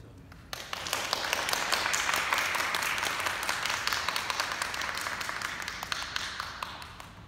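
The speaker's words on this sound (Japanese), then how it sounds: "では大きな拍手を。" An audience applauds at an opera lecture concert on La Traviata, ahead of a tenor and soprano performance. Steady, fairly loud clapping rises just after the start and carries on through to the end, with no break.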